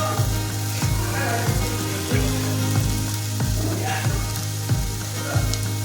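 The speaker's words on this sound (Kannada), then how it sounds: "ಹಚ್ಚಿಟ್ಕೊಂಡಿದ್ದಂಥ ಬೀನೀಸು, ಕ್ಯಾರೆಟು ಎಲ್ಲವನ್ನು ಹಾಕ್ಕೊಂಡು ಸ್ವಲ್ಪ ಉಪ್ಪು ಹಾಕ್ಕೊಂಡು ಚೆನ್ನಾಗಿ ಫ್ರೈ ಮಾಡ್ಕೋಬೇಕು" Chopped beans and carrots fry with salt in a pan, a loud steady sizzle broken by regular scraping stirs roughly every half second.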